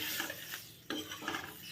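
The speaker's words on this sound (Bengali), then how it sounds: "ওই জন্য দিয়ে দিলাম একটু জিরে ফোড়ন।" Cumin seeds crackle and sizzle in hot butter as they temper with the heat just switched off, with soft scraping stirs and a short pause midway, fairly quiet and close.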